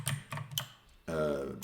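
Keyboard typing during command-line work in a terminal with vim and fzf: a few crisp, close key clicks and taps at the start, followed by a voice speaking.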